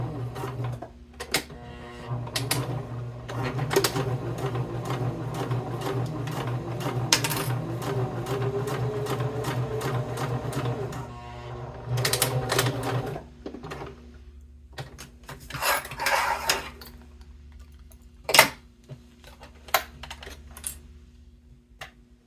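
An electric sewing machine stitches a leather bifold wallet, a steady mechanical whir running for about twelve seconds, then stopping; scattered clicks, taps and handling noises follow.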